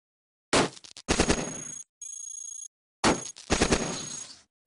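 Enemy gunfire in the robot video game Cogmind: loud, close bursts of rapid shots in two clusters, separated by a brief electronic tone, with no talk.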